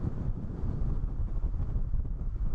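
Steady gusty wind buffeting a microphone beside a large lake, with low rumbling bursts rising and falling continuously and no voices.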